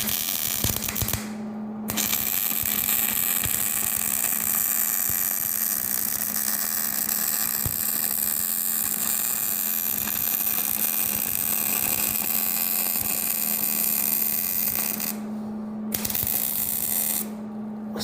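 Long weld bead laid on a log splitter attachment, a steady crackling, sizzling arc hum running for many seconds with brief pauses near the start and end.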